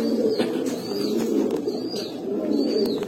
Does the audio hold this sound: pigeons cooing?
yes